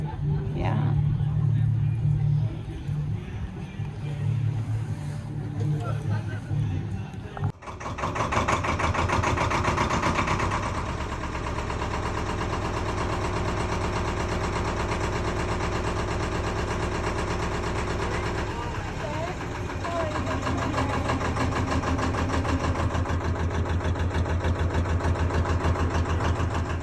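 Engine of an old cargo boat with a wooden bottom and steel sides, idling in close quarters: a steady, loud mechanical drone with a low rumble and a faster clatter, running continuously under occasional talk.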